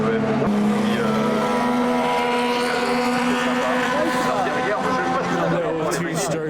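Vintage race cars lapping the Le Mans Classic 2025 circuit during evening racing, their engines forming a loud, continuous drone of overlapping revs that shifts in pitch as the cars pass.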